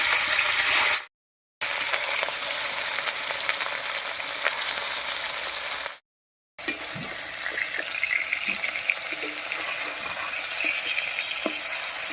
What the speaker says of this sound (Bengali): এবারে কড়াইতে সর্ষের তেল দিয়ে মাছটা ভেজে নেব